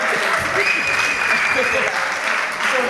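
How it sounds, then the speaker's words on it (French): Sustained applause from an audience, dense and steady clapping filling the whole stretch, with some voices mixed faintly underneath. "Il faut applaudir les acteurs."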